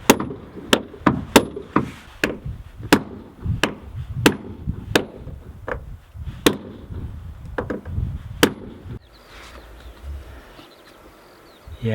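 A hammer drives a nail into wood on a homebuilt boat, about a dozen sharp, ringing blows at an uneven pace that stop near the end, followed by quieter shuffling noise.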